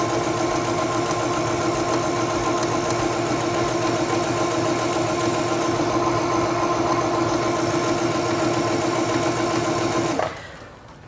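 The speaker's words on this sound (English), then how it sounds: "Place the fabric under the presser foot, lower the presser foot, and begin sewing." A SINGER Stylist 7258 sewing machine runs a straight stitch with a loud, steady, fast mechanical whirr and rapid needle chatter, close up, stopping abruptly near the end.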